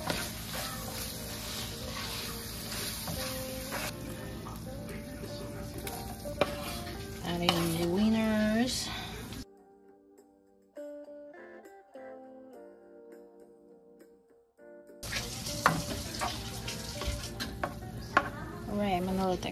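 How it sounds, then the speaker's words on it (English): Discada sizzles loudly in a pan while it is stirred and mixed, with scraping and clinks of a utensil against the metal. The sound drops to near silence with faint tones midway, then the sizzle and stirring resume. "And now I'm gonna mix it all in."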